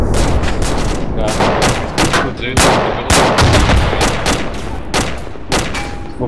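Dense, loud gunfire from the military video game ArmA 2 ACE: rapid overlapping shots and machine-gun bursts crackle almost nonstop, close and heavy throughout.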